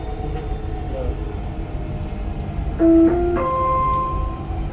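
Dubai Metro train running, a steady low rumble of the carriage in motion with brief rising tonal whines from the drive, heard from inside the car.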